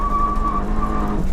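A Stage 2 402bhp Seat Leon Cupra hot hatch pulls hard through the gears, its engine droning loud and close with a steady whine from inside the cabin.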